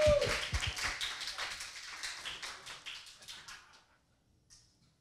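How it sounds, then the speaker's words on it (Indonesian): Audience applause at a talk event, a burst of clapping loud at the start then thinning and fading out over about four seconds, followed by near quiet. "Tepuk tangan semua."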